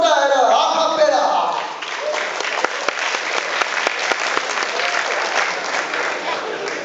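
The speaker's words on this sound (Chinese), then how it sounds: "让我们掌声欢迎" An audience bursts into loud, sustained applause to welcome an a cappella group at a Taipei substitute-service New Year gathering; dense clapping follows a brief voice at the start and holds steady.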